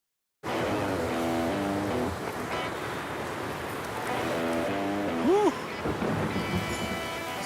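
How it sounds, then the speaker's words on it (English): An approaching storm rumbles with thunder under a steady wash of rain that fills the whole stretch, with faint tonal sounds drifting over the noise. "Sounds like we got a storm coming in"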